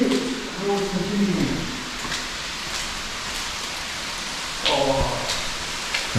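Rain falls steadily at an abandoned palace in Baturiti, Bali, a dense hiss of drops heard with people talking over it at the start and again near the end.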